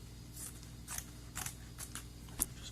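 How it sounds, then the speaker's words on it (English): A pair of scissors snips a small strip from a wildfire fighter's fabric chaps for a patch repair, several quiet crisp cuts in an irregular rhythm, close up and fairly faint, with no voices. "We'll just cut a little strip off of here to repair."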